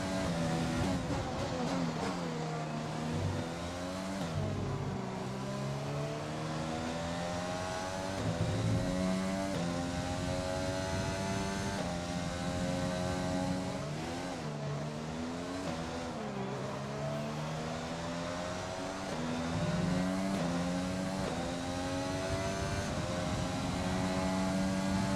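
A race car engine in a racing video game on a warm-up lap on a wet track, revving up and down in repeated smooth sweeps through the gears, steady and alone without any talk.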